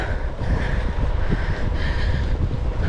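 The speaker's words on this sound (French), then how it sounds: "il y a beaucoup de vent, mais on est juste en bord de mer" Strong wind on the Brittany coast at Quiberon buffets the microphone in a constant low roar, with faint wash of the sea behind it and no speech.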